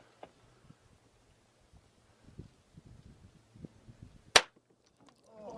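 Gunfire in combat footage: one sharp, loud shot stands out near the end amid faint scattered pops and rustling in an otherwise quiet scene.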